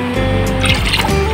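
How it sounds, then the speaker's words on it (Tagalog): A small splash of vinegar poured into rice for fish preservation, a brief trickling liquid pour close by, lasting about a second with soft dripping. "lagyan po natin ng konting suka para po iwas panis po"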